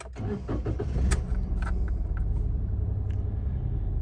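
A 2014 Daihatsu Ayla automatic's engine cranks briefly and catches, then settles into a steady low idle rumble, close by with no talking.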